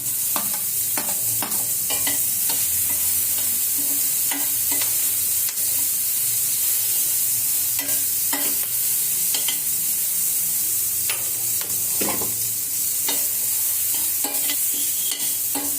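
Onion and capsicum stir-fried for fried rice, with a constant loud sizzle broken by repeated sharp spatula scrapes and taps against the pan, close up, no talk.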